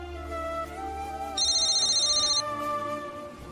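A telephone rings with a bright electronic tone over a backing of dramatic music, the ringtone clear and prominent for about a second before fading back under the score.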